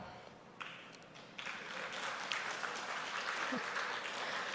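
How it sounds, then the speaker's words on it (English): Audience at a talk cheering and applauding about Pakistan, a sustained broad wash of clapping and cheers that swells after a second and holds steady, moderately loud, with no speech over it. "First time I'm hearing people cheering for Pakistan."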